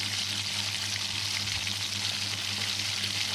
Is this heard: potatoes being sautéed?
yes